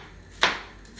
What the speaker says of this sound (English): chop the onion